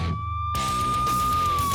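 A police car siren wails steadily during a nighttime pursuit near an airport perimeter, starting abruptly after a brief quieter moment and then sounding loud and close over engine rumble.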